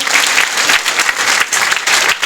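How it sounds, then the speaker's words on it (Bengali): An audience at an award ceremony claps in a dense, steady burst of applause that rises and dips slightly over a couple of seconds, filling the room without talk. "এটা রিমির জন্য একটা হাততালি হবে প্লিজ।"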